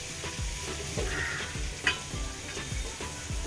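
Chopped onion sizzles and fries in a pan over cumin for pav bhaji, a steady close crackle with regular scraping stirs of a spoon throughout.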